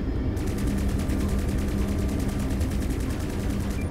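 Sustained machine-gun fire in the space combat game Strike Suit Zero, a loud continuous rapid rattle of shots holding steady with no pauses.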